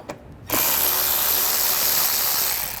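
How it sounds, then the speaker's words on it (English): Ratchet wrench with an 8mm socket removing screws from a 2009–2010 BMW 535i xDrive 3.0L inline-six engine bay, a brief quiet pause then a steady close buzzing ratchet clicking for over two seconds with no talk. "Just so you have more room to pull this out, we're going to take these screws out."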